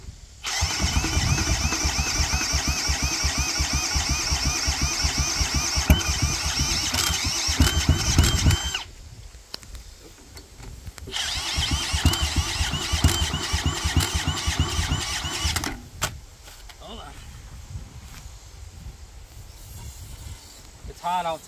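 A Wheel Horse garden tractor engine with no carburetor fitted runs wide open in loud, steady bursts, cutting out briefly around the middle and again near the end, with faint sputtering afterward.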